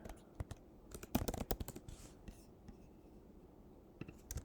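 Short bursts of computer keyboard typing, a quick flurry of clustered keystrokes near the start followed by a few scattered taps, close up and fairly quiet with no talking.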